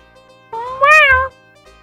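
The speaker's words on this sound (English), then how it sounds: "You get one kitty meow." A single cartoonish cat meow sound effect, clear and close, rising and falling in pitch, alone in near silence as a stream redeem alert.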